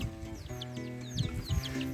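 A young chick on a permaculture farm peeps in quick, high, repeated chirps over a low background rumble, close and fairly clear.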